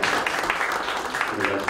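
Audience applause at a Korean church denomination's general assembly meeting, a steady wash of many hands clapping with some voices mixed in, sustained through the short stretch.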